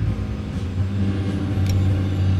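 A Freightliner Argosy truck drives in Euro Truck Simulator 2, its engine giving a loud, steady low drone with a brief hiss partway through.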